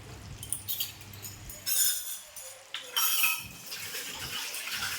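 Cream poured into a pan of malai chicken over low heat, two short wet splashing pours with light clinks of utensil and pan, close and moderately loud with no talk.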